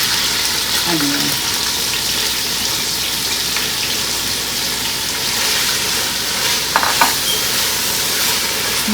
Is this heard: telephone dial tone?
no